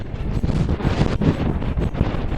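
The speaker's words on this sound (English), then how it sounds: "So windy it is, it's windy." Strong wind buffets the microphone at a mountain summit, a loud, continuous low roar with gusting surges and no voices.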